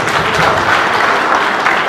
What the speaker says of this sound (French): Applaudis à nouveau, bien-aimé.